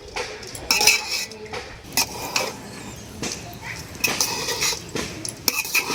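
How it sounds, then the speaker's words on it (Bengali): Rice being stirred in oil in a pan with a utensil for pulao, giving repeated scraping and clinking strokes at close range, some louder bursts at irregular intervals against a steady low background. "চালটাকে 2 মিনিট তেলে নেড়ে চেড়ে নিয়েছি"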